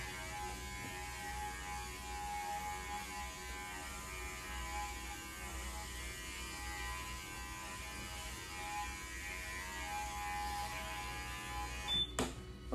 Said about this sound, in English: Now I'm trimming the hair in the direction of the lay of the coat.